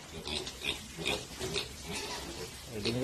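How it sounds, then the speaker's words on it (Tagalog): Piglets on a backyard pig farm in Cebu grunt and oink in short repeated bursts, close and fairly loud, with a person talking softly underneath. "So, yung mga biik natin ready na."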